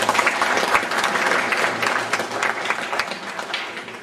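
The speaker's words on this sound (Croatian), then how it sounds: "Zamolim vas da nagradimo još jedan put, znači jednim aplauzom, sve dobitnike ovih priznanja." Audience applauding award recipients at a formal ceremony in Željezno Polje, steady dense clapping from a sizable crowd held at an even level throughout.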